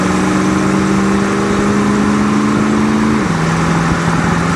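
A 1963 Chevrolet Bel Air wagon's engine pulls steadily under acceleration on a test drive, a loud continuous drone with a rising tone that dips briefly as the transmission shifts, close and without talk.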